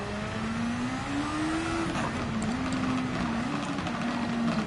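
A Toyota race car in Gran Turismo 7 during a Gazoo Cup race, the engine droning steadily with pitch rising and dipping as it accelerates and shifts, no talking.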